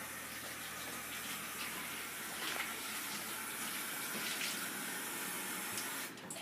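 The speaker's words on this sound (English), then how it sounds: "First, I'm going to start off by washing my hands." Hands are washed under a running kitchen tap, a steady, close rush of water splashing into the sink, continuous throughout with slight shifts in the flow and no talking.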